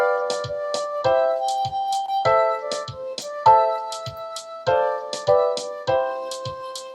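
Notation software plays back written notes: a steady sequence of synthesized pitched tones with a regular rhythm of note onsets and a low bass note under each beat. No one talks over it.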